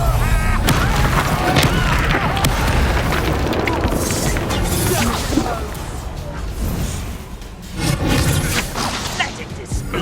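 Confringo blasting-spell explosions in Hogwarts Legacy boom and crash through a dense, loud battle mix of whooshes and impacts, repeated bursts throughout.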